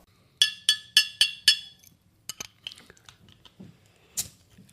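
Glass beer bottles clink in a quick run of five bright, ringing taps, followed by scattered softer knocks and handling noises, close and otherwise quiet.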